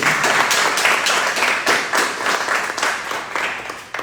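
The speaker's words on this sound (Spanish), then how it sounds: "Damos la más cordial bienvenida, con un fuerte aplauso, al doctor Alejandro Tobalín Ahumada." Loud, dense applause from a conference audience welcoming a speaker, a continuous crowd of clapping hands that holds steady before easing slightly at the end.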